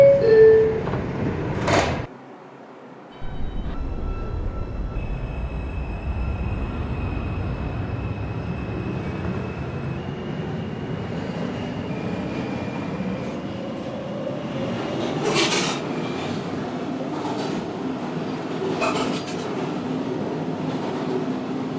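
An R142 subway 2 train runs toward Pelham Parkway, a steady, loud rumble of the moving car with a brief drop near the start, tonal motor whine rising and falling, and occasional sharp rattles along the way.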